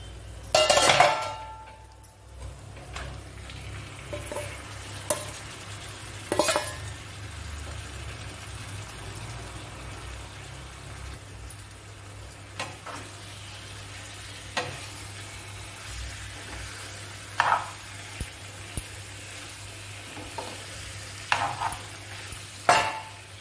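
Seasoned food being fried in a pan, heard as a faint, low sizzle. Sporadic scrapes and clinks of a spoon stirring against the pan break through close by.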